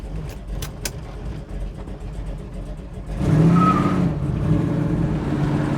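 A 1968 Chevrolet Camaro SS-style car drives off, its engine rumbling low and then swelling louder as it pulls away, with a sustained droning tone and some road noise close to the cabin.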